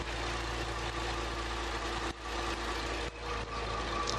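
A 3.6-litre V6 petrol car engine idling with a steady, even low hum, heard close up with no voices.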